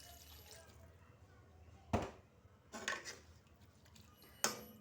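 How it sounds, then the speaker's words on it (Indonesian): Water is poured into a cooking pan while stir-frying Aceh-style chayote shoots with anchovy sambal, heard as three short splashing bursts against a quiet kitchen background. "Tambahkan air secukupnya aja."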